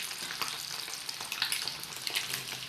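Eggs for an onion-leaf egg curry brown in hot oil, giving a soft, steady sizzle with light stirring scrapes and small pops, quiet and without talk.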